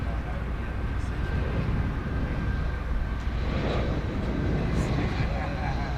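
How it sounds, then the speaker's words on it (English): A 23-year-old Airbus A319 arriving at DFW Airport, heard as a steady, broad engine roar that stays constant throughout, with outdoor wind noise and no talking. "It's an Airbus A319."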